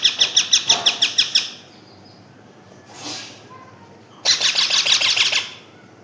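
Ring-necked parakeet chicks give rapid bursts of shrill, raspy chirping calls, close by, with a quiet pause and a brief rustle between the two bursts.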